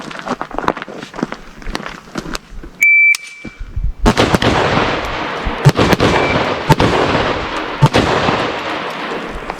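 AK-103 rifle fire during a combat drill demonstration at a range: loud, close, sharp shots in rapid irregular strings, separated by a brief electronic beep from a shot timer and short pauses.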